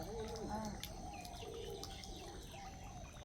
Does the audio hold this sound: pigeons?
yes